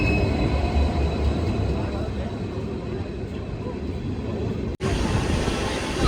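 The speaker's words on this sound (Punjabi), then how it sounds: "ਟ੍ਰੇਨ ਸਾਡੀ ਆ ਗਈ ਹੈ ਜੀ ਪਹੁੰਚ ਗਈ ਹੈ ਟ੍ਰੇਨ ਸਟੇਸ਼ਨ ਤੇ" Train noise at a station in Dhuri fills the clip as a loud, steady rumble, broken once by a very brief dropout near the end.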